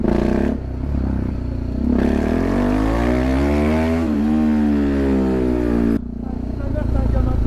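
A small two-stroke Solex moped engine runs steadily up close, its buzzing pitch rising and wavering as it revs.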